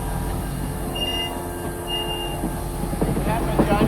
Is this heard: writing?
no